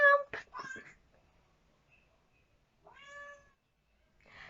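A pet cat gives a short, clear meow after a brief burst of a voice, with quiet gaps between the sounds and a little more talking at the end.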